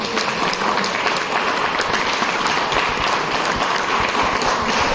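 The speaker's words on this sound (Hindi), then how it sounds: "अपने लिए ताली बजाओ" Steady applause from an audience at an Ayurveda product business training meeting, dense clapping that fills the room continuously throughout, loud and sustained with no voices over it.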